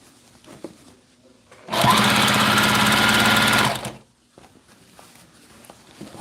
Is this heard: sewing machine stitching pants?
yes